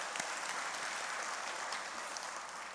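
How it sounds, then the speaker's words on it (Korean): A church congregation at a Sunday worship service applauds in thanks, a dense, steady wash of many hands clapping at once, filling the room evenly for the whole stretch with no talk over it. "감사의 박수를 보내주시면 고맙겠습니다"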